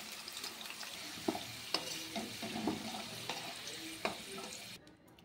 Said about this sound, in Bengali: আলুগুলোকে একটু লাল লাল করে ভালো করে ভেজে নেব।